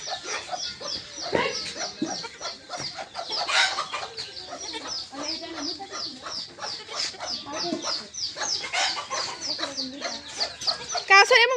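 Chickens and chicks in a backyard coop cluck and peep almost continuously, close and lively, with a busy overlapping chatter of bird calls and occasional voices talking in the background.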